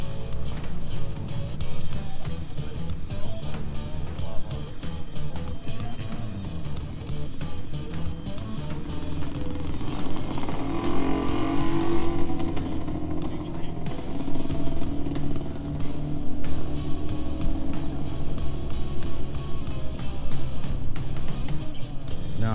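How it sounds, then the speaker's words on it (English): A vintage Suzuki RM125 two-stroke dirt bike engine runs and revs at an outdoor swap meet, with a rough, buzzing drone rising and falling steadily close by. Crowd clatter and background noise sit beneath it. "RM125 Suzuki motor."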